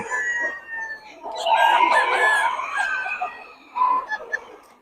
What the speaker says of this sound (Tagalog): Solid mga manok ni Batang.